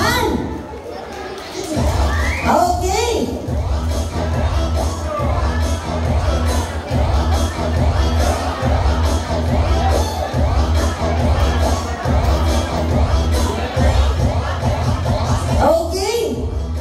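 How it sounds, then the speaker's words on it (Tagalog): A crowd at an 18th birthday debut celebration in Cagayan cheers and claps loudly, with whoops and children shouting over sustained babble; a voice speaks briefly near the end. "Isang malakasang palakpak naman dyan."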